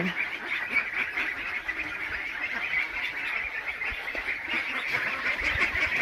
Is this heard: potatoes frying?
no